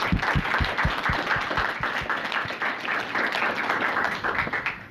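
Audience applause after a thank-you at an NC DIT staff gathering, steady dense clapping from a crowd with some sharp individual claps up close, sustained throughout at moderate level.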